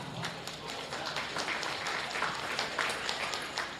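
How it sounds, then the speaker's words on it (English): Steady applause from a crowd at a county fair goat show, a dense patter of clapping that continues evenly throughout, heard from a moderate distance. "let's give them a big round of applause."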